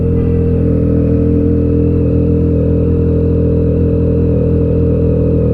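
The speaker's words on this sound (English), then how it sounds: "Oh, of course there's the bike going that way." A motorcycle engine, likely a small 500cc bike, runs steadily and close by, filling the scene with a continuous mid-pitched drone and no clear pass-by swell.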